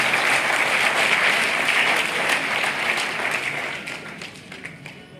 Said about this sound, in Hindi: इसके लिए आप सब अपने लिए तालियां बजाएं